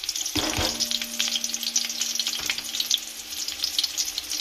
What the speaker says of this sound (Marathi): मिरच्या, खडे मसाले घेतले ते खडे मसाले यामध्ये टाकणार आहोत.